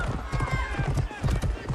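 Rhythmic hoofbeats of a galloping horse in the video game Mortal Kombat 1 pound steadily throughout, loud and close, with voices talking over them.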